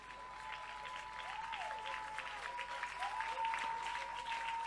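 A church congregation at a Sunday prayer service applauding, sustained even clapping that builds slightly, with faint voices and a steady tone underneath.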